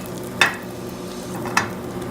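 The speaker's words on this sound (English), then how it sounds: "Then just pan fry the both side." Tofu steaks pan-fry for a Japanese tofu steak dish with a quiet, steady sizzle, broken twice by short sharp clinks or scrapes from a utensil, with no voices.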